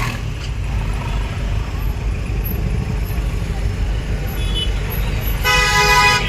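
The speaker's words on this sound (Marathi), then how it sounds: "हे ट्रॅफिक जाम आहे." Vehicles idle in a traffic jam with a low engine rumble, a few short horn toots, and a louder blaring horn near the end.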